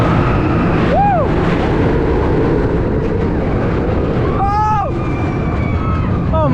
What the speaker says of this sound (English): is a Premier Rides LIM launch coaster that opened in 1999.